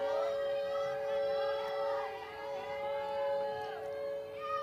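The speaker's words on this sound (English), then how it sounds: "That's a long siren." A long, sustained siren tone holds steady throughout at a women's softball game, heard at a distance with faint crowd murmur and a voice underneath.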